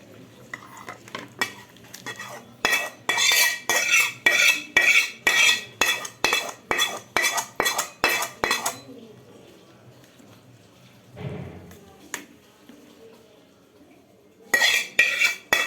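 A utensil repeatedly scrapes and clinks against a cooking pot in a fast, steady rhythm of loud strokes, pausing briefly before a final burst of stirring.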